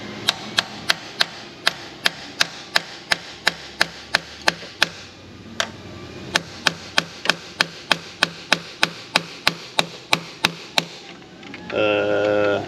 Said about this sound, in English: I'm gonna get under that and just try to tap this off with a little hammer right here